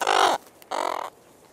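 A large female booby seabird gives two hoarse, raspy calls close by, each a harsh drawn-out squawk separated by a short pause, with no talking.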